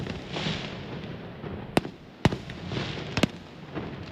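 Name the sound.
fireworks display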